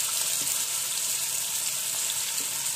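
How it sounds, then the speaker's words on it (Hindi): Marinated chicken frying in mustard oil in a pan over full flame, a steady, dense sizzle that holds evenly from start to finish with no talking. "और जो हमारा मैरिनेटेड चिकन है वो हम इसमें फ्राई करेंगे।"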